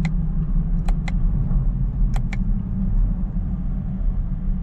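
A Chevrolet Camaro ZL1 drives with a steady, loud low engine rumble throughout, overlaid by a few brief sharp clicks or shift-like transients, with no voices.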